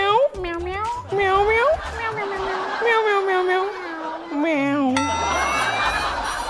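A woman on a stage show imitates a cat's meow with a series of rising and falling voiced calls, close and clear, while a crowd chatters and laughs around her.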